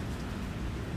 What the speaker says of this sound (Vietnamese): Nhưng mà nay là được trời mưa.